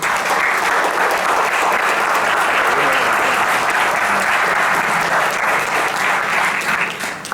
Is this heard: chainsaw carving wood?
no